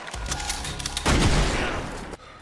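Gunfire rings out in a crime-film scene about corrupt police, with a rapid run of shots followed by a louder, denser blast that fades before cutting off abruptly.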